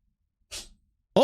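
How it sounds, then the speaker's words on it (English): A short, wet burst from a small animal around the middle, preceded by silence, then a brief louder noise at the very end. "he just let out the nastiest little fucking sneeze"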